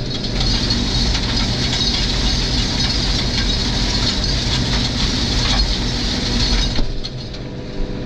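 A corn stalk shredder runs behind a tractor, its loud continuous grinding roar heard through an open cab window, steady for most of the stretch before dropping sharply toward the end as the level falls away.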